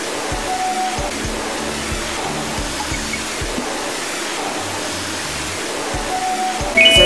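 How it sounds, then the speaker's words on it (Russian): Strong jet of water spraying a cartoon police car during washing, a continuous hissing rush with low engine-like hum pulsing beneath and a brief bright tone near the end. "Сначала они смыли грязные пятна сильным напором воды."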